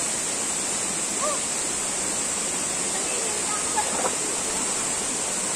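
Buruwisan Falls in Siniloan, Laguna, roars with a steady dense rush of falling water that fills the whole scene, and a faint voice rises briefly under it.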